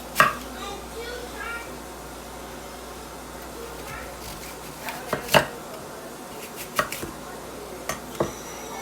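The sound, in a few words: knife chopping an apple for apple juice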